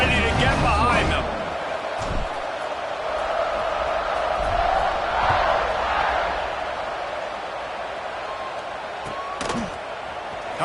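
Football stadium crowd before kickoff at a Notre Dame versus TCU game, a broad sustained roar of many voices with a few sharp thuds, while a commentator speaks over it.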